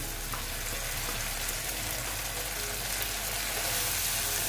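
A continuous loud sizzle of climbing perch frying in oil with mustard and poppy seed paste fills the clip, steady and close, with no talking.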